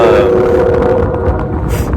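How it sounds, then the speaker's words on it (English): A train passing nearby: a loud, steady rumble with a sustained tonal drone at the start that fades into broad rolling noise. "Hey, that's a train."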